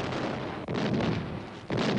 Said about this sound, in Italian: L'artiglieria nemica ha iniziato i tiri di disturbo sulla piazza forte.